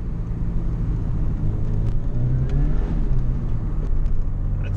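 A Ford Sierra RS Cosworth engine hums and rises in pitch as the car accelerates in second gear, a steady low in-cabin rumble with a gentle upward sweep and no talking.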